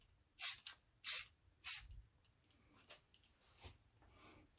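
Short bursts of spray paint dust motorcycle front end parts: three distinct close hissing puffs early on, then fainter, softer sprays.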